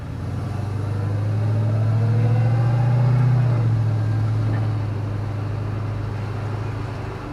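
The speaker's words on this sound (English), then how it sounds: "This sounds like my tires are rubbing worse than before" Lowered Chevrolet Nova on the move, a steady low engine and road rumble from inside the car that swells in the middle and eases off; no distinct rubbing scrape stands out.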